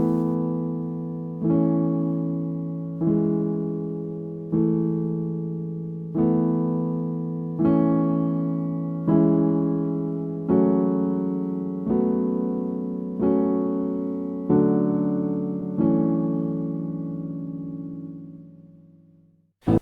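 Solo piano playing a right-hand verse part: about a dozen evenly spaced struck chords, each ringing out and decaying before the next, clear and close with no talking.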